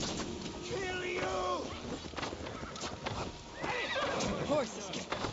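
Horses whinny and neigh amid clopping hooves and clashing in a battle scene from the video game Assassin's Creed Valhalla, with two distinct neighs rising over a busy background of combat noise and voices.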